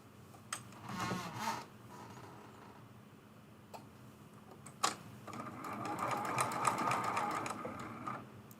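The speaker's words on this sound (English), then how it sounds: "we're going back to the sewing machine for the last time to add these 3 strips" A sewing machine runs in short bursts, whirring and stitching rapidly, with pauses and small clicks between runs, quiet and close.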